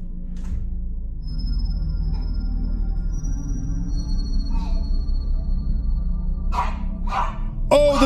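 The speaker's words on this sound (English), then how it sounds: "And the dog's barking." A dog barks a few times near the end, short sharp yaps over a steady low household hum.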